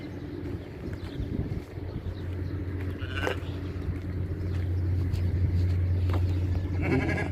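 Goats on a small farm bleat amid steady outdoor background noise, with a low engine-like hum underneath and a few brief calls rising above it.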